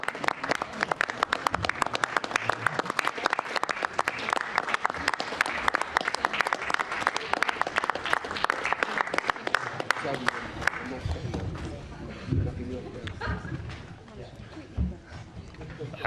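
Sustained applause from the audience at a London Assembly plenary meeting, dense and steady for about ten seconds before thinning out, with voices and murmuring emerging as the clapping fades.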